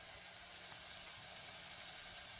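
Roast meat searing in a pan over medium-high heat, a steady, dense sizzle and crackle running continuously at close range with no voices.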